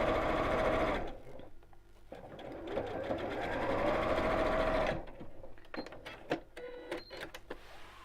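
A sewing machine stitches straight seams through fabric, two bursts of fast, steady whirring with short gaps and soft clicks between them, close and fairly quiet.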